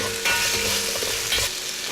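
Finely minced garlic and roughly chopped onion sizzle with ginger in a hot pan, a close, steady frying hiss with stirring clatter and a couple of louder bursts as the ingredients are tossed.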